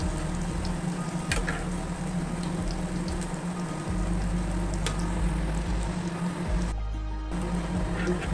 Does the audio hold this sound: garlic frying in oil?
yes